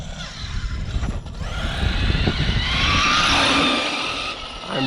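Large-scale Rofun ELT short course RC truck on a Hobbywing Max 5 G2 system, driving past with a rising motor whine, gravelly tire scrabble and mechanical rattle, growing louder toward the middle then easing off.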